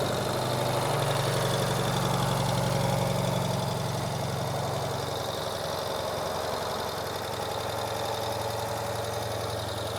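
A 2023 Ural Gear Up Sahara motorcycle engine cranks over on the starter and catches, then settles into a steady, smooth idle that runs on continuously, loud and close.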